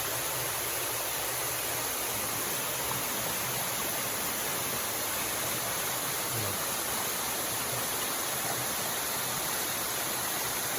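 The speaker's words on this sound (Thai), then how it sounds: "ทุกท่านกำลังรับชมในขณะนี้คือน้ำตกห้วยโรงจังหวัดแพร่นะครับนี่" Huai Rong waterfall in Phrae, Thailand pours as a steady, broadband rush of falling water, constant and fairly close throughout, with no voices.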